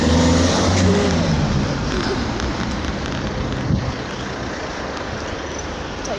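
Steady roar of passing cars on a busy city street, a broad wash of traffic noise with a faint engine rev near the middle, close and continuous, with wind buffeting the microphone.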